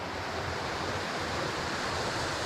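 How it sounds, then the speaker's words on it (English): A waterfall on a small Pennsylvania wild trout stream gives a steady, dense rush of falling water, close and fairly loud, unbroken for the whole stretch and with no voices over it. "So we got this great looking waterfall here."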